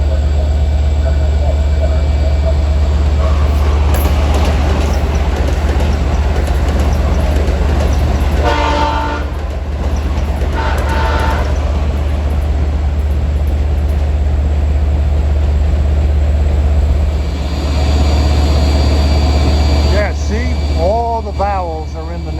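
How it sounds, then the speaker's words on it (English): Amtrak Acela Express, Boston to Washington, approaching a station platform, a loud steady rumble of the train rolling close by, with short horn-like tones midway and a rising whine toward the end. "approaching Line 2 is Amtrak 2169, the Acela Express, Boston to Washington."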